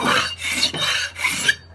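A hand scraper drawn across a flat surface to take off high points, four long rasping strokes in steady rhythm, close and loud with short pauses between.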